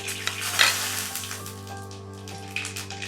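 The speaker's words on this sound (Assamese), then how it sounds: "মই এতিয়া মাছ ভজা তেলতে তেজপাত দিম, আধা চামুচ পাঁচফোৰণ" Bay leaf and half a spoon of panch phoron hit hot oil left from frying fish, giving a close, crackling sizzle with sharp pops and a brief louder burst early on, settling into a lighter hiss.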